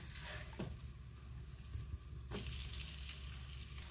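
Chicken pieces sizzle steadily in hot oil in a pan for teriyaki, a soft continuous crackle broken by a couple of brief louder spatters, close and fairly quiet with no talking.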